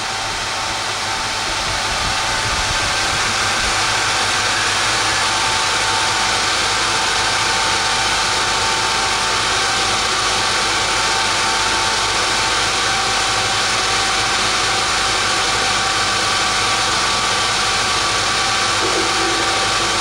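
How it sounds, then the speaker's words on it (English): A laser cutter engraves material, making a loud, continuous mechanical whirr and hiss with a steady fan or air-assist drone and faint rhythmic motion sounds throughout. "if I press run on the machine, which is the yellow button, it will start to engrave to begin with"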